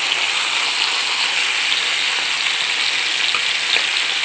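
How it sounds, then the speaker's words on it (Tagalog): Salmon fries in oil with garlic and ginger, giving a loud, dense, continuous sizzle close up with no break and no talking. "iprito lang natin muna sa oil na may garlic at saka ginger para mawala ang lansa"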